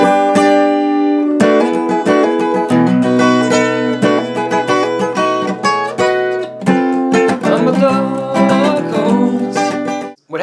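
Guitar plays the short instrumental passage after the third chorus of a song, a busy run of strummed chords and picked notes with sharp attacks and ringing sustain, close, steady and solo.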